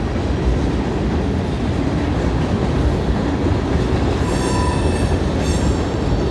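A Norfolk Southern coal train rumbles past close by beneath a trestle, a loud continuous roar of rolling wagons with wheel squeal rising toward the end.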